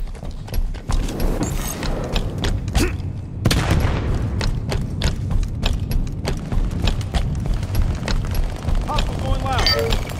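Halo 5 multiplayer Breakout match: rapid gunfire and grenade explosions in dense, loud bursts, with a heavy blast partway through, under game announcer voice lines.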